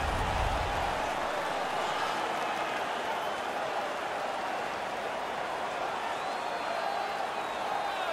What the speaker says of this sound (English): The crowd is now back in it.